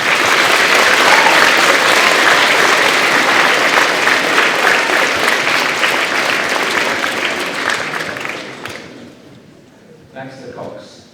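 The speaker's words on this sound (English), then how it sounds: "Let's give Zach a round of applause." A crowd at a school awards ceremony applauds steadily and loudly for several seconds before the clapping fades out, followed by a brief faint voice.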